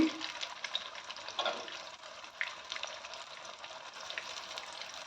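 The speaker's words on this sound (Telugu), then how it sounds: "బాగా ఫ్రై అవ్వాలి అది" Food sizzles and crackles in oil in a pan on a stove over a medium flame, a steady close hiss with scattered pops and no talking.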